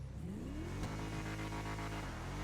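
An Enus Deity car engine in GTA 5 revs up, its pitch rising and then holding at a steady drone. The sound is close and continuous, and no one speaks over it.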